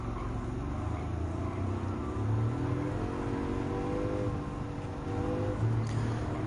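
A McLaren F1 road car in Gran Turismo 7 accelerates during a race, its engine a steady, close, full drone with rising harmonics that holds for the whole stretch, with no talking.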